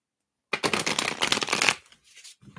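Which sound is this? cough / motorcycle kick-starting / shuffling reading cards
shuffling reading cards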